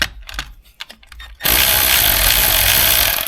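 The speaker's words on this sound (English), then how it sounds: "Just tightening up these idlers that I loosened up to help me slide the belt on." A power tool starts abruptly and runs loud and steady while tightening engine belt idlers on a cheap junk car, following a few faint clanks and rustles.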